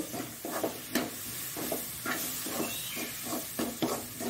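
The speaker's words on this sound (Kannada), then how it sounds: "ಹಾಲನ್ನು ಹಾಕ್ತಿದ್ದೇನೆ ನಾನು" Milk poured into a hot pan for rava laddu sizzles and hisses, with repeated stirring scrapes at an uneven rhythm, close and moderately loud, no talking.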